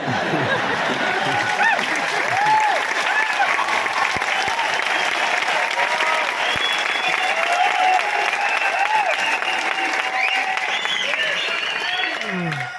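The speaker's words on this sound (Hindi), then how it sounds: "देखो ये जो ताली बजा रहे इतनी जोर से बजाओ कि जो मुर्दे बैठे वो खड़े हो जाए।" A large crowd at a Mi Lifestyle marketing seminar hall claps loudly and continuously for about thirteen seconds, with a dense, sustained roar of hands and some chuckles and voices mixed in.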